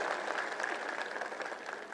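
A crowd at a political rally applauds, a dense wash of clapping that holds steady for the full two seconds, faint and somewhat distant.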